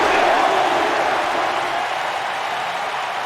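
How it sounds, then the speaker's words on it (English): Arena crowd in the WWE 2K25 wrestling video game roars with steady, dense cheering and applause throughout, loud and continuous, slowly easing slightly toward the end. "We're listening to this crowd."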